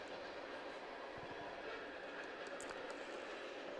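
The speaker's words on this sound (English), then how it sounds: "As the train moves across in the background." A train passes in the background of a junior varsity high school football game, a faint steady rolling rumble with light rail clatter under distant crowd and field noise.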